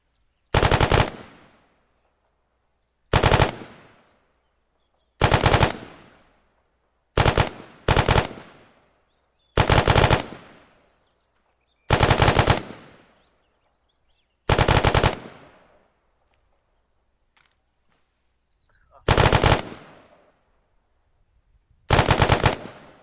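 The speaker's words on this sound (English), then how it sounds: "engage your targets with your burst, and then just make sure we're doing talking guns with 3 guns here" Machine guns in Arma 3 fire about ten short, loud bursts at irregular intervals, each a sharp rattling volley that ends in a brief echoing tail, with quiet gaps between and no talk.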